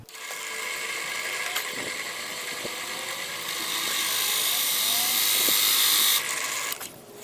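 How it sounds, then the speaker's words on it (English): A drill press whines steadily at high pitch, rising in intensity as it bites into metal, then stopping, with a few faint clicks underneath. "I can bolt the original pillar on, just clamp that there, there we go. Now I can drill that out"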